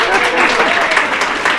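Audience applause at a public meeting in Mauritius, a dense, steady patter of clapping filling the whole short stretch, fairly loud and close with no pause.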